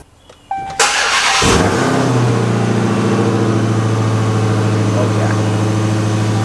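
A supercharged 6.2 liter Hemi V8 in a Charger starts up with a sharp burst, then settles into a loud, deep, rumbling idle with a steady throaty drone close by.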